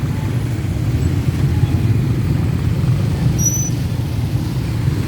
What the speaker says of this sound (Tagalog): Bakit matraffic dito? Tingnan natin.